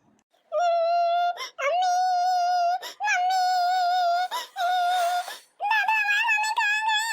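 A young girl cries in a rural Awadhi household scene, giving loud, close, drawn-out wailing sobs in several long bursts separated by brief breaths.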